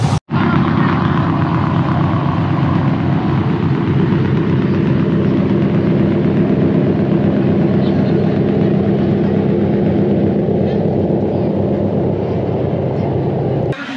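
A small trawler boat engine drones steadily and continuously at close range, low and loud, with a constant rumble and no voices.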